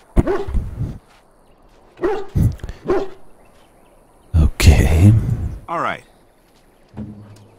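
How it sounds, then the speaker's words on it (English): An excited dog barks in several loud, close bursts in a video game, with yips and a whimpering whine between them, while a person talks. "He barks excitedly and runs off."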